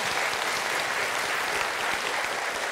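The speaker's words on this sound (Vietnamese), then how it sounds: "Khán giả thì phía trên sẵn sàng vỗ tay cổ vũ tinh thần thí sinh." Steady applause from a studio audience cheering on contestants of the Vietnamese student quiz show Road to Olympia, a dense even wash of clapping with no pauses throughout.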